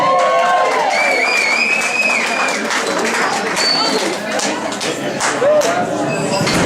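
Loud, close crowd applause with cheering, whoops and whistles, voices mixed into the noise throughout.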